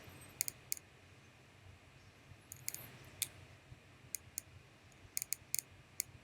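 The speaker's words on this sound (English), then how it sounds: "If I click here to view the diagram" Computer mouse clicks, faint and sharp, come singly and in quick pairs or triplets over quiet background hiss, with no speech.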